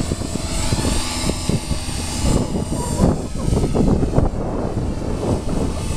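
A V450D RC helicopter flies outdoors in the wind, its rotor and motor whining steadily and fairly loud, with gusts adding rumble throughout.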